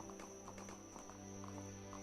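Horse hooves clip-clop in a quick, steady gait in the open-world indie RPG Gedonia, a faint, continuous patter of hoofbeats with game ambience underneath.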